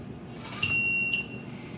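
A loud, high-pitched electronic beep from a Eufy Lever Lock C33 smart door lock, held for about half a second, with a faint hum underneath.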